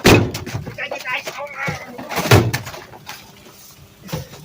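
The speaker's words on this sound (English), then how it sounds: "Knocking more ice off the truck than anything." A trash can bangs against a garbage truck's hopper to knock ice loose in winter, giving a few heavy, close metallic thuds amid hydraulic noise while someone talks.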